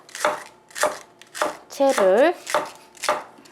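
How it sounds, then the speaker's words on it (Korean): A knife finely shreds cabbage on a cutting board in steady, evenly spaced chops, close and crisp, with a short stretch of voice in the middle. "그런데 저는 양배추를 이렇게 채를 썰어 줄 거예요."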